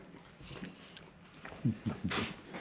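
A small Pomeranian–Shih Tzu mix dog gives a quick run of four short, faint yaps close together, following a few quieter sounds in a calm outdoor setting.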